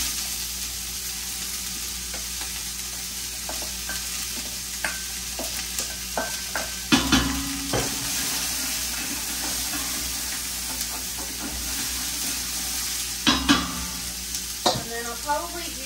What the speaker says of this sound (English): And then I'll add my white onion for the spaghetti sauce.